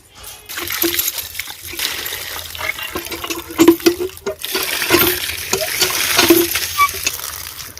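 Pieces of rohu fish being rinsed in water while making an Odia fish besara dish, with trickling, dribbling water and intermittent splashes and sloshes close by, alone without speech.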